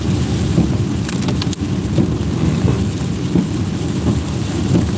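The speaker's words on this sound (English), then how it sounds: "And this rain is coming down, folks." Heavy rain pours steadily outside with deep rolling thunder, a dense continuous roar that stays loud and close throughout with no talking.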